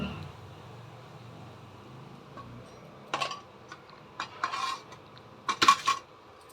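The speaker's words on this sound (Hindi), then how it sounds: "ऐसे ही सारे जिमी कांदा को अच्छे से फ्राई कर लेंगे।" Pieces of elephant foot yam frying in a pan for a Chhattisgarhi dish, with a low steady sizzle and a few sharp metallic clinks and scrapes of a utensil against the pan toward the end.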